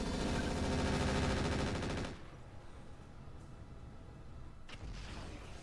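Rapid bursts of weapons fire strike several enemies at once in a tactical video game, a dense loud volley for about two seconds before dropping to a low rumble, then a brief renewed crackle near the end.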